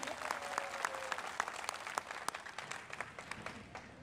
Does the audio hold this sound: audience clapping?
yes